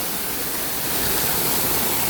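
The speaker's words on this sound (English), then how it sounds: "I just love waterfalls and everything, so it's just amazing to hear that" Indoor waterfall at the Gaylord Opryland Resort, a steady, loud, broadband rush of falling water filling the space evenly throughout, with no voices.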